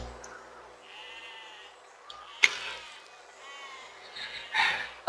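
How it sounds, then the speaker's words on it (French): Sheep bleating in the physics building game Besiege, several wavering bleats that start and stop over a faint background, with a few sharp game impacts and clatters between them. "Ah, c'est vrai, il y a des moutons."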